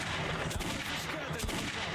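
A game gunshot aimed at a bottle in Metro 2033 Redux, with two sharp reports about a second apart over a noisy, dense background.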